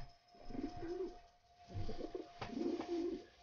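Pigeons cooing in Grim Fandango Remastered: several soft, rounded coos repeat in short bursts, near and moderately loud, over a steady low game ambience with a faint hum.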